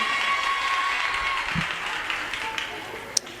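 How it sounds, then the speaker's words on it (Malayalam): Audience clapping at a literature festival book discussion, a broad steady wash of applause running throughout, with a brief sharper clap near the end. "കൈയടിക്ക്."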